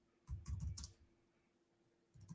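Quick bursts of typing on a computer keyboard, a short flurry of close, soft key clicks, a pause, then a few more keystrokes, quiet and alone.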